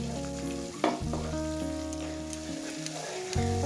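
Chopped tomato cooks down with spices in a pan for an egg tikka masala, giving a continuous soft sizzle with light stirring scrapes over a low steady hum, and no one speaking.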